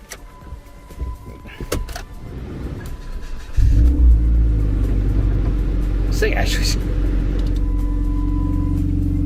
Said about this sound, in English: It either has an exhaust leak or has an exhaust on it.